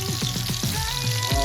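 Pork meat frying in its own rendered fat without added oil, a close, loud crackling sizzle with repeated sharp pops and spits throughout.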